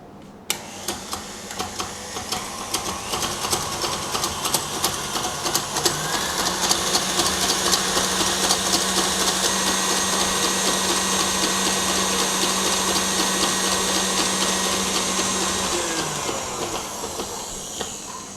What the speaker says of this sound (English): now I'm going to beat this on high speed until I have really stick peaks formed